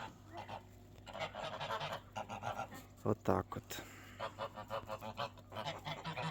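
Geese honk repeatedly in a rapid, noisy chatter close by, with a person's voice briefly heard in between.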